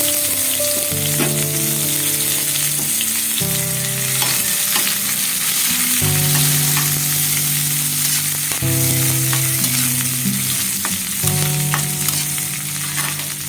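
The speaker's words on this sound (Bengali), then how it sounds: "পেঁয়াজটা একটু ভাজা ভাজা হয়ে গেলে করে দেবো" Onions frying in oil with panch phoron and dried red chillies while being stirred, a loud continuous sizzle close by with scraping stirs and a steady harmonic hum underneath, no voices.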